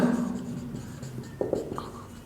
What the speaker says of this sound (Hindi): इधर लिखेंगे टू इनकम एंड एक्सपेंडिचर